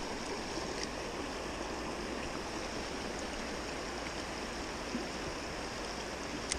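A shallow river runs over and around rocks, a steady broadband rush of flowing water that stays even and continuous throughout, with no voices.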